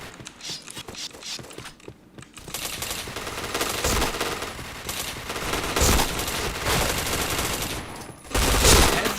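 Rapid automatic gunfire in the online shooter Point Blank, dense bursts of shots running almost continuously with heavy impacts, loud and close, with a few brief gaps and sharp single shots.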